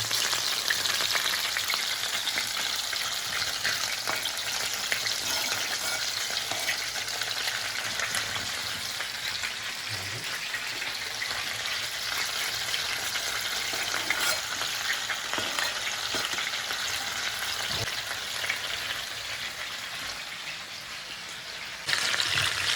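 Chicken frying in a pan for a kefir-braised chicken and potato dish, dense steady sizzle with oil spattering and popping throughout, close and fairly loud, no talking.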